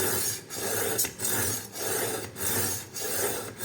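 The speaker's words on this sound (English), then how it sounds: "Just pass it through the middle, again 15 to 20 times" Knife blade drawn repeatedly through an IKEA SKÄRANDE sharpener, a steady rasping scrape in rhythmic strokes about every half second, close and loud with no talking.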